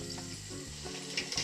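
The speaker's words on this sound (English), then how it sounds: "Now we put half a cup of sugar into the water." Half a cup of sugar poured into water in a glass container makes a steady, close granular hiss over a faint low hum, with a few small clinks near the end.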